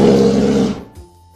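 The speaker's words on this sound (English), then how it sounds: "We see a brown bear," A brown bear gives one loud, rough roar lasting under a second, then it cuts off into near silence with a faint low thump.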